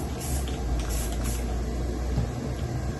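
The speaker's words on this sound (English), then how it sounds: "So we're just going to spray magenta on the side." Magenta spray paint hisses from a can onto the side of a foam flower, a continuous close airy spray lasting a few seconds with slight pulses.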